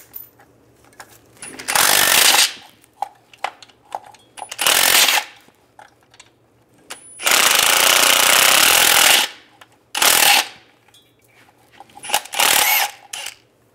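An impact wrench with a 15 mm socket removes the transmission mount bolts on a 2007-2013 Chevy Silverado, firing several loud, harsh rattling bursts of one to two seconds separated by quiet pauses.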